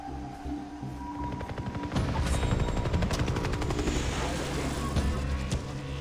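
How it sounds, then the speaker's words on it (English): A helicopter in the Far Cry 3 video game drones with a rapid, steady rotor chop, mixed with bursts of gunfire and booms in a dense, loud in-game battle. "The chopper."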